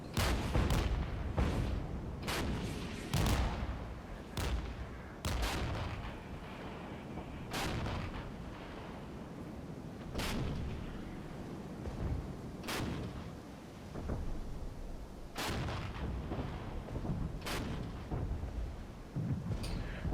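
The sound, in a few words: artillery and mortar fire in the video game Regiments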